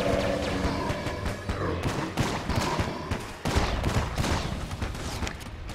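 Rapid, continuous gunfire from Enter the Gungeon, a dense stream of shots blending with game music and effects, steady and loud throughout without pause.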